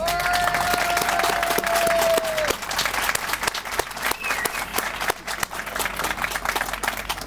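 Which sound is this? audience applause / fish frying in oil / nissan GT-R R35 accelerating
audience applause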